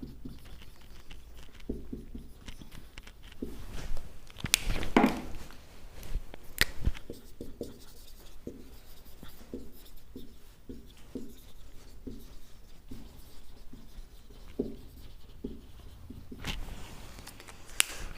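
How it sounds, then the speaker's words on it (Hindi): Marker strokes squeak and scratch across a board during an accounting journal-entry lesson, a run of short repeated scrawls at moderate closeness with a few sharper taps, no talk. "थोड़ा इसको इधर लिखते हैं।"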